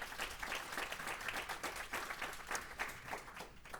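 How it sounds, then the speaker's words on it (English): An audience at a health summit panel claps steadily throughout, a moderate crowd of applause at mid distance with no voices over it. "Round of applause for our panelists."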